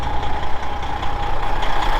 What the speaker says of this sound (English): while the truck is running here